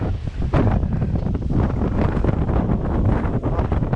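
Strong gusting wind batters the microphone on a Palbongsan mountain hiking trail within sight of the sea, a loud continuous roaring rumble with no voices.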